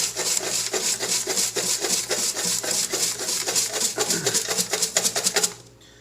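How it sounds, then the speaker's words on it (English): Very dry sand shaken through a sieve pan at the Arabia Bay north trench dig. Close, rhythmic rasping strokes repeat evenly for several seconds, then stop abruptly. "This is really dry sand. I'm going to go ahead and give it a good shake."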